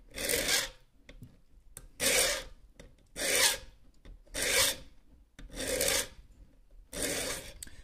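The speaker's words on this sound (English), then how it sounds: "This is a Grit 2 file" A hand file rasps along the edge of a carbon steel Mora knife just past the handle in six firm, evenly spaced strokes, each a loud gritty scrape separated by brief pauses and small clicks.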